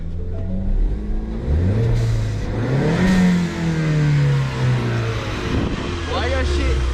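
A Ford Mustang V6 revs hard with the hood open, the engine note climbing sharply and falling back in a couple of loud, close pulls while voices talk over it.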